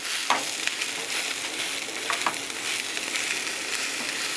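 Food sizzles steadily in a hot pan right after being flipped to its other side, a close, even frying hiss with a few brief utensil clicks and no talking.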